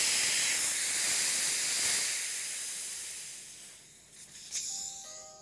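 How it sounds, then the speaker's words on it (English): A strong, broadband hiss of pressure venting from a Ralston Quick-test adapter connection, loud at first and gradually tapering off, with faint clicks near the end. "the Ralston Quick-test connection will safely self-vent instead of blowing off"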